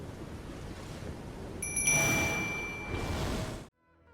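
A bright bell-like ding rings out over a steady wash of noise, holding for over a second before everything cuts to near silence.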